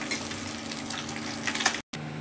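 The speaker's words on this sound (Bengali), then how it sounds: "এইভাবে আরও যে মাছগুলো আছে সেগুলোও আমি ভেজে নেব।" Fish frying in a pan gives a steady close-up crackle and sizzle, with a few sharper pops near the end and a brief dropout before the sizzle resumes.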